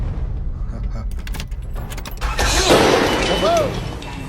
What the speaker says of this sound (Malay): Enjin meletup tu.